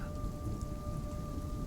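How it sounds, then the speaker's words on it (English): Pouring rain with a thunderstorm rumble, a dense continuous wash of noise heavy in low rumble, loud and steady with a faint tonal hum over it. "As you hear the thunder and the rain start pouring outside"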